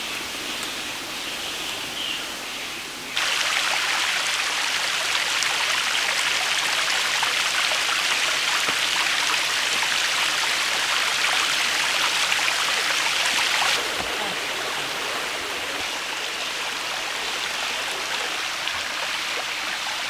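A forest stream below a waterfall in a Sri Lankan reserve rushes steadily as broad, loud, continuous water noise that swells after a few seconds and eases slightly later, with no voices.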